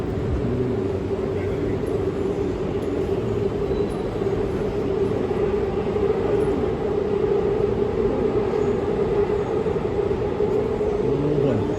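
A loud, steady rumble of a train at a Seoul Station platform, with a constant low hum and mechanical drone filling the space.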